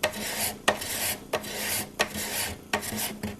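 A hand scraper draws across wood, stripping off a black finish in repeated rasping strokes, about five passes each beginning with a sharp bite, close and steady with no talk.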